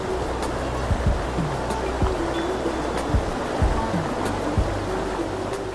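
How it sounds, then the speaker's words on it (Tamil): Steady broadband rush of a waterfall fed from a spring at Ambamalla, dropping in the Poonagala area, a continuous dense roar with no voices. "அம்பாமல்லையில் ஊற்றெடுத்து பூனஹேல்ல பகுதியில் நீர்வீழ்ச்சியாக கண்களை கவரும் இந்த இடம்"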